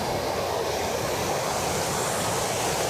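A river flows near a waterfall at a campsite, a loud, continuous broadband rush of water with no pauses.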